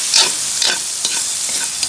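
Pork meat for chopsuey is stirred in a hot pan, a loud close sizzle with scraping strokes of a spatula repeating roughly every half second.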